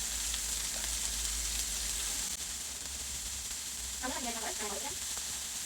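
Meatballs sizzle in a non-stick pan, a soft, steady frying hiss nearby, with a brief voice partway through.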